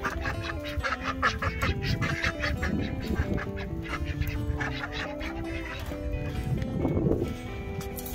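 Ducks quack continuously on a small farm in windy, snowy weather, a busy chorus of nasal calls close by, with a voice briefly mixed in.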